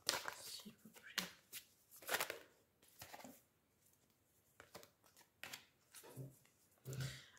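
Tarot cards drawn and shuffled from a deck, a series of quiet, close papery swishes and flicks at uneven intervals.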